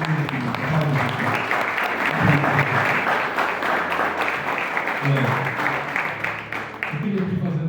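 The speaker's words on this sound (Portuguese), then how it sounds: "Você pode se assentar aplaudindo a Jesus?" A church congregation claps together in sustained, dense applause, loud and even throughout, with a voice speaking over it.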